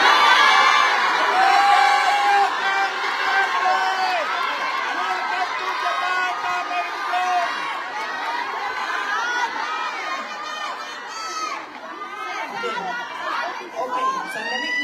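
A large crowd at a political gathering shouts and cheers continuously, with loud overlapping voices, whoops and chatter filling the whole stretch.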